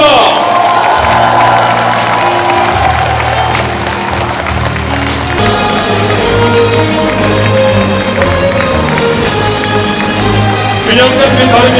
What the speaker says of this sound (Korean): 바른미래당을 이끌어갈 지도부에게 힘찬 함성과 박수 부탁드립니다.